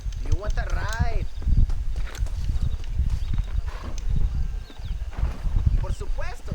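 Hooves of a horse clip-clopping in a western video game set in a Mexican desert, a continuous close plodding rhythm heard beneath talking voices.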